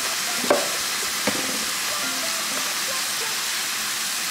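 Seasoned meat, with onion powder, seasoned pepper and garlic powder, frying and browning in a pan, a steady close sizzle and hiss with a couple of brief knocks near the start.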